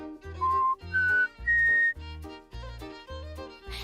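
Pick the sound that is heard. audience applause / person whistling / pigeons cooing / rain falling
person whistling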